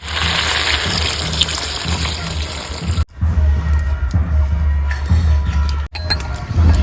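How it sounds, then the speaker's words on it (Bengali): Water is poured into a pan of fried mutton curry. It starts as a broad, rushing sizzle and then settles into a lower gurgling churn after a short break. The sound is fairly loud and close, with no talking. "এবার আমি দিয়ে দেবো জল।"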